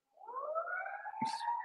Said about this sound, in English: Please forgive the siren